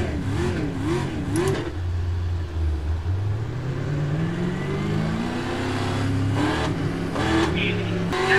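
Race truck engines in the iRacing simulator, a pack of trucks revving and shifting with rising and falling engine tones, a continuous mid-level roar under the broadcast commentary.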